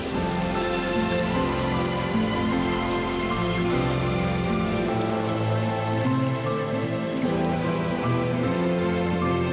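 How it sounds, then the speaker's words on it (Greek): Rain pours down steadily in a dense, continuous hiss of drops hitting surfaces, with music playing underneath throughout. "Σταμάτησε η βροχή."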